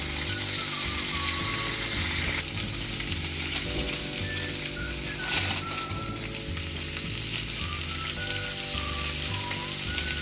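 Liver tikka pieces fry on a tawa with a constant, dense sizzle, steady and close, over a low pulsing hum and a faint melodic tone in the background, with no one talking.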